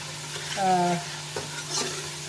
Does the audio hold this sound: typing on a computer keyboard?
no